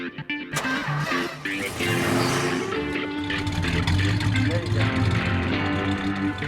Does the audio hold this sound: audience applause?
no